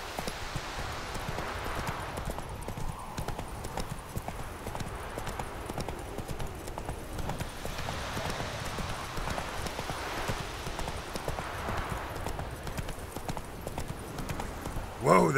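Horse hooves clip-clopping at a steady trot in The Witcher 3 on a rural path, a continuous rhythmic patter at moderate distance with a brief louder knock at the end.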